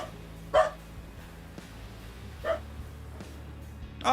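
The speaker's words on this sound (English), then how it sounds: "Bark, bark, bark, bark, bark." A dog barks three times in separate bursts with quiet gaps between, fairly close and loud against a low indoor background hum.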